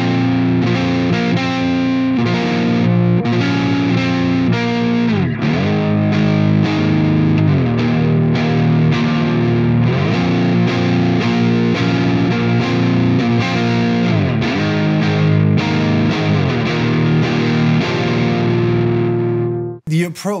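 Heavily distorted electric guitar played through a DiMarzio PAF 36th Anniversary neck pickup, thick and full of low end, a dense sustained riff running loud and continuous before cutting off abruptly at the end.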